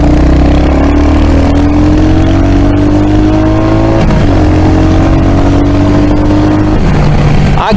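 A Royal Enfield Hunter 350 motorcycle accelerates hard, recorded close and very loud. The engine note rises steadily, drops abruptly at quick gear changes, then climbs again, with wind rumble underneath.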